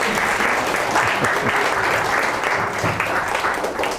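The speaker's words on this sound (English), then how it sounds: "Round of applause once more." Audience applause thanks a freelance photographer after his talk at a lecture event, a full room clapping steadily and loudly from start to finish, with faint voices underneath.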